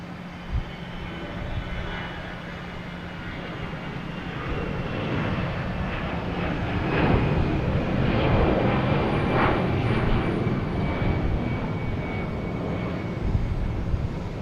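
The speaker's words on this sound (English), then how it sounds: "And that's being paired with American Airlines, flight 1421, going an A319." An American Airlines Airbus A319 jet at Boston Logan Airport, a broad engine roar that swells gradually louder and stays strong to the end, with no voices.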